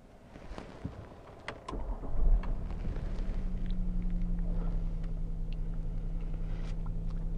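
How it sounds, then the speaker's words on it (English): Range Rover Sport engine starting up: a short crank followed by a low, steady idle rumble that settles and holds close by, with no talking. "So all I'll do is I'll set about and start the vehicle up."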